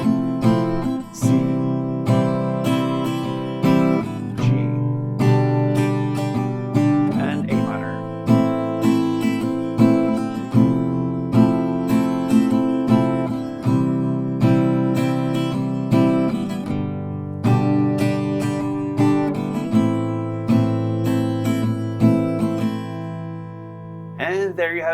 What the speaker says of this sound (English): So 1 chord progression around sounds like this.